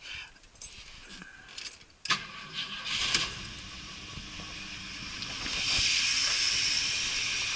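A 1973 Ford Mustang Mach 1 Grande coupe starts up with a short crank and catch, then settles into a steady running engine with a hissing rush that grows louder and holds, no talk over it.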